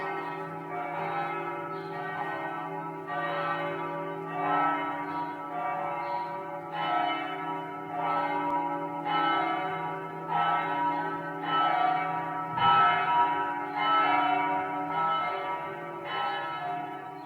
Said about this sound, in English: That is the school bell here.